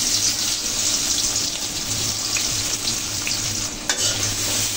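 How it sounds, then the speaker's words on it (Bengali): Chopped onions frying in hot oil for a carp and cucumber fish curry, a steady dense sizzle running throughout with soft stirring scrapes and one sharp clink near the end, close and fairly loud. "হালকা বাদামি কালার করে ভেজে নেব"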